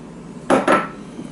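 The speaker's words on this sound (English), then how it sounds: "Now I'm going to add my onion." Diced onion tipped into a bowl of torn bread for cornbread dressing, two quick close knocks and rustles of the bowl or container in a row, then quiet.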